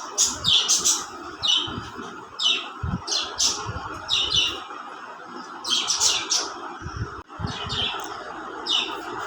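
Racing pigeons and their young in a loft, giving repeated high chirps and squeaks in quick bursts, close and fairly loud over a soft steady background.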